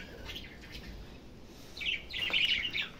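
Rainbow parakeets in a protected backyard aviary let out a burst of high, bright chirps and tweets partway through, over faint background noise.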